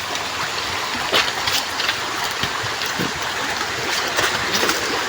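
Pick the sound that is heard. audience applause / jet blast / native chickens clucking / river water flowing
river water flowing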